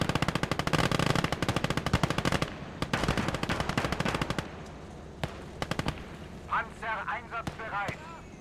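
Quad-mount machine guns fire in a Gates of Hell battle as long rapid bursts, loud at first and then in shorter, sparser volleys, with a voice speaking near the end.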